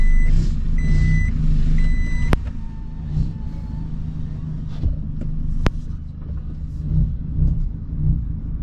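An Isuzu CAB4 pickup truck reverses into a parking spot, its steady engine rumble close and loud while a reversing beeper chirps in evenly spaced tones at the start, with a couple of sharp clicks later.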